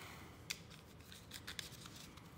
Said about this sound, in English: I'm going to shuffle real quick.